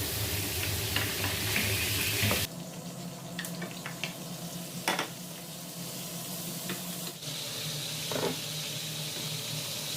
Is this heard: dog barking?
no